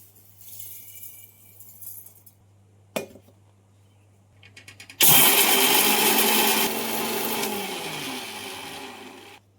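A mixer grinder starts with a loud, harsh whirring roar and runs steadily for several seconds as it grinds roasted whole spices, after a few quiet clinks and knocks of preparation.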